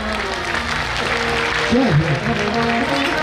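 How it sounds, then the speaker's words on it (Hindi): An audience at a Jain Panchkalyanak religious ceremony in Sheetaltirth claps in a loud, continuous patter, with a voice and music-like tones carrying over the applause. "ताली बजाओ जोरदार"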